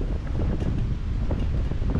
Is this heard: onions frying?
no